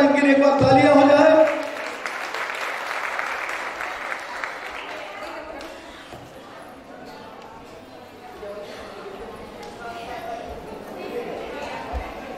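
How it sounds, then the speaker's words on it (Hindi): Audience applause at a Bhartiya Vaishnav Bairagi community gathering in Aurangabad, loud clapping that starts right away with a brief tonal burst, then eases into softer scattered clapping and crowd murmur. "जोरदार इनके लिए एक बार तालियां हो जाए"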